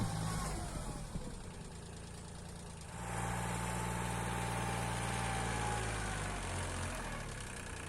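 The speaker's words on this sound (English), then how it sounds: "So in the first step I go with the tractor down the hill" A tractor engine runs steadily on a steep hillside slope being cleared for terraces, a continuous mid-to-low rumble that grows louder and deeper midway as the load increases, heard close with no talking.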